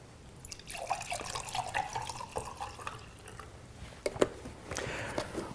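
A thin stream of high pH Kangen water, pH 11.5, pours and trickles into a container, running unevenly with splashy drips and a few louder splashes toward the end.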